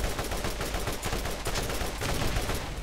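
Explosive weapon fire from the Borderlands video game, including a bazooka, comes as a dense, continuous barrage of sharp blasts and crackling bursts, loud and unbroken for the whole stretch.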